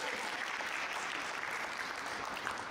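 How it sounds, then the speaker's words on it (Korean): Audience applause at a city cultural project briefing session, a dense, steady burst of many hands clapping that fills the whole clip with no talk over it. "한 번 더 박수."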